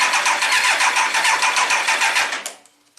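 A 1999 Triumph Trophy 1200 motorcycle cranks with the choke on, a fast, loud rhythmic churning of the starter for about two and a half seconds before it stops without catching.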